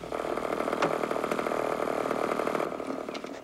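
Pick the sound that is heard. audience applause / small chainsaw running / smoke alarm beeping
small chainsaw running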